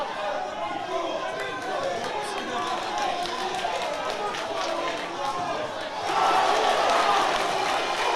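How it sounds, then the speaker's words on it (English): A large crowd at an amateur boxing show roars and cheers steadily as head shots land, the noise swelling louder toward the end, with a commentator's voice running underneath. "Crowd literally getting behind every headshot that Dean is landing."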